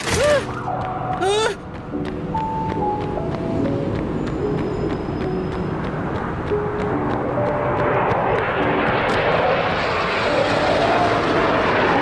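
A predator drone flies overhead with a steady droning engine roar that builds and grows louder and broader over about twelve seconds.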